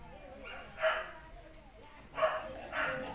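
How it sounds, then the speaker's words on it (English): A pet dog barking indoors, three short yapping barks spaced apart over a quiet background, close and moderately loud. "That's my own dog."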